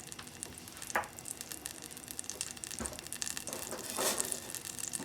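Butter sizzles steadily in a hot pan, a dense crackling hiss with a few louder spits and pops, close and alone with no talking.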